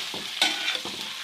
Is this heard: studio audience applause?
no